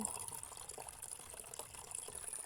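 Clean water is poured into a pet drinking bowl outdoors, a faint continuous splashing trickle that runs steadily throughout with no speech.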